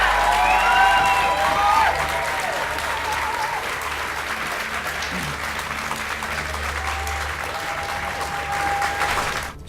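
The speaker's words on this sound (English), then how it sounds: "he deserves one more big round of applause. Put your hands together for Darren McGarvey" Big round of applause from an audience for author Darren McGarvey, loud sustained clapping with some crowd noise and a few faint cheers, tapering slightly toward the end.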